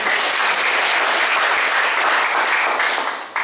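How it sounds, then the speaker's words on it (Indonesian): A church congregation at an Indonesian Independence Day thanksgiving service claps together in loud, sustained applause, a thick even roar of hands that cuts off abruptly at the end. "Tepuk tangan untuk kita."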